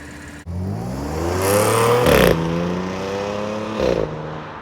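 An Audi S5 Coupe with wide 225 front tires pulls away and accelerates hard, its engine note rising loudly through the gears with brief dips at each shift, close and alone.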